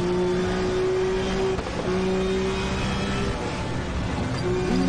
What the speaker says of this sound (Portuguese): o som desse carro é animal, animal